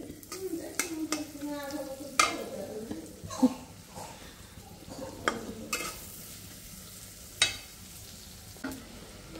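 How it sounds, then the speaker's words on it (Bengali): A spice paste fries in a pan ahead of adding meat, crackling steadily while a spoon scrapes and clatters against the pan in irregular strokes; a voice talks quietly underneath. "পেস্টটা মোটামুটি অনেকটা ভাজা হয়ে গেছে, পেস্টের মধ্যে মাংসগুলো দিয়ে দিচ্ছি।"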